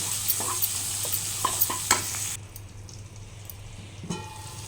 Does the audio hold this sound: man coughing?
no